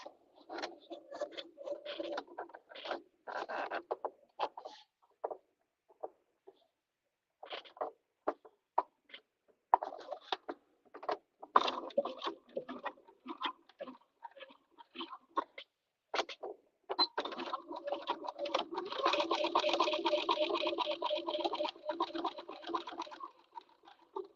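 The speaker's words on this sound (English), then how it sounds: "I'm just going to put it under my machine, and we're just going to stitch that closed" A sewing machine stitches fabric closed on a cat-shaped caddy: close, rapid mechanical pattering comes in short stop-start bursts, then one longer continuous run near the end, with no voices.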